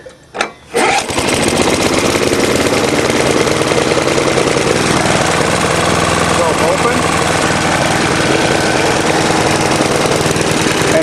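A small Briggs and Stratton lawn mower engine starts after a couple of pulls and then runs loudly and steadily at close range, a continuous buzzing drone, running a bit rich.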